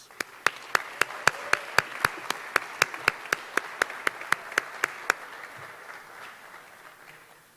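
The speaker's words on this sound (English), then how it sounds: "Round of applause." Audience applause at a United States Naval Academy awards ceremony, heard as a steady round of about twenty sharp, evenly spaced claps that stop after roughly five seconds and leave quiet room tone.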